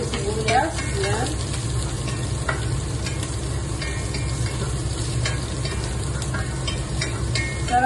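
Onion sizzles steadily in a frying pan for ampalaya with egg, a constant close hiss with occasional stirring scrapes and clinks throughout.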